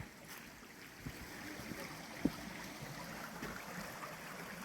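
A small stream flowing under a little wooden bridge on a muddy, boggy woodland path near sea cliffs, a soft steady trickle with faint outdoor ambience.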